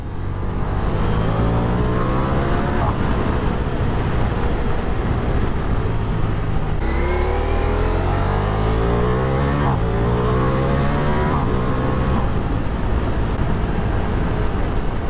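A Ducati Diavel V4 motorcycle engine pulls hard while riding, rising through the revs, dropping briefly at gear changes and climbing again. It is loud, close and continuous, with wind noise underneath.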